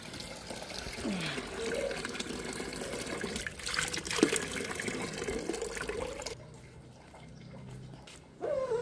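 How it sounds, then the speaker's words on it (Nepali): Water splashes and trickles as it is poured while cleaning out a pig pen, a quiet, uneven gush that drops away near the end before another brief pour. "सुँगुरको खोर सफा गर्दैछु पानी लाँदैछु यहाँदेखि"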